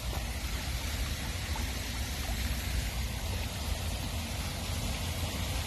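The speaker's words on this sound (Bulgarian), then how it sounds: "Реката на Върхорах." A river flows with a steady, unbroken rush of water, close and fairly loud, constant for the whole stretch with no voices over it.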